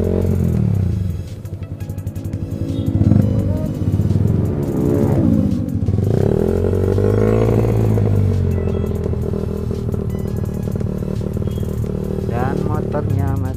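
Motorcycle engine running, likely one with an ongoing mechanical fault, on a group Sunday-morning ride near Kopeng, with steady engine drone and rising revs heard close up under ongoing talk.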